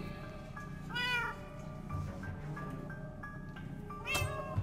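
Cat meowing in Minecraft: Story Mode, two distinct rising meows about three seconds apart, loud and close over a steady bed of game music and ambient noise.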